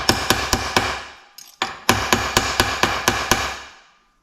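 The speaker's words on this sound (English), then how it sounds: "we're going to hammer it so it's flat" Steady metallic hammer blows ring out in a regular rhythm, about a dozen strikes with a brief pause partway through, loud and close.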